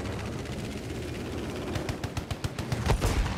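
Gunfire in a 3v3 squad Seek and Destroy video game match: a faint, distant background at first, then a rapid run of sharp automatic shots that grows louder and ends in a heavier burst.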